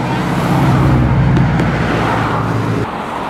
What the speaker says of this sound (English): These poor people are driving by,